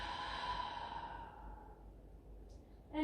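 A slow, breathy exhale during a Pilates exercise, soft and close, fading out over a couple of seconds into quiet.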